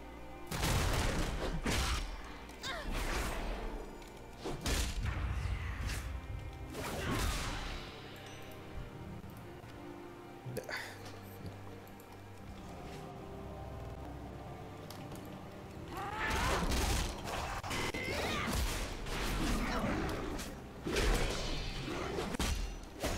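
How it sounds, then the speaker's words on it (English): Video game fireworks burst in loud clustered volleys of crackling booms and whooshes, a quieter lull in the middle, then another dense barrage near the end. "Fireworks for Misha."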